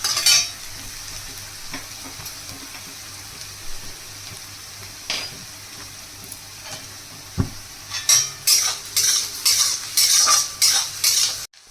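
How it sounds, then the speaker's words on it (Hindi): Onions with grated garlic and ginger frying in a pan for gobhi paratha, a soft steady sizzle under clinks and scrapes of a spoon stirring, growing busier toward the end. "अब इसमें हम लहसुन और अदरक को डालेंगे और इसे हम 2 मिनट तक भून लेंगे"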